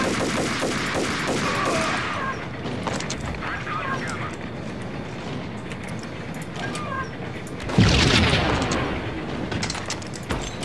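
Gunfire rattles through a Max Payne gameplay session, with a sharp, loud explosion burst near the end, all under ongoing talk from players.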